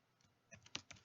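A few quick keystrokes on a computer keyboard, soft clicks in an irregular burst, close and quiet with no talking.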